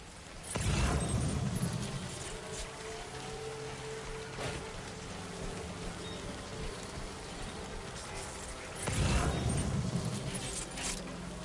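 Timefall rain in the game Death Stranding 2: a steady broadband hiss of falling rain, swelling louder twice in heavy surges with a low rumble, steady and close throughout with no voices.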